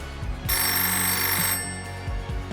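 A telephone rings once in a bright, sustained electronic burst lasting about a second, close and clear, with a low background hum around it.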